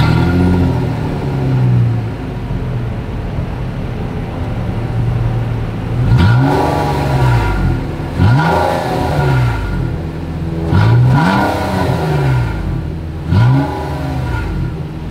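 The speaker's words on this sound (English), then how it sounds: "As always, here is that exhaust clip." A 2022 Nissan Maxima sedan engine idles with a deep dual-exhaust rumble, then revs up sharply several times in a row, each throttle blip rising and falling back close by.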